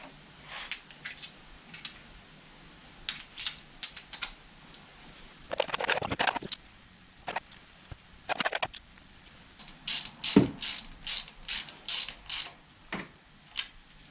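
Clicking and ratcheting from a 10mm ratchet tightening coil pack bolts on a 2004 Toyota Celica, in short bursts with a longer busy stretch midway and a quick run of sharp clicks near the end, close and moderately loud.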